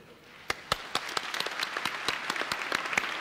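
The faithful of the Buenos Aires archdiocese applaud their new archbishop. The clapping begins as sparse, distinct claps and quickly thickens into a fuller, warm burst close by.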